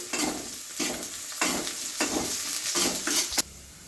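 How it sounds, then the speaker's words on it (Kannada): Onion and garlic sizzling in hot oil in a pan as they are stirred and roasted, with a steady loud fry broken by repeated scraping strokes of the spoon about every half second, no voices. "ಈರುಳ್ಳಿ ಬೆಳ್ಳುಳ್ಳಿ ಹಾಕದೆ ಎಣ್ಣೆಗೆ ಹೇಳ್ಬಿಟ್ಟು ಹಾಕು. ಚೆನ್ನಾಗಿ ಉರಿಬೇಕು. ಇದನ್ನ ರೋಸ್ಟ್ ಮಾಡಬೇಕು."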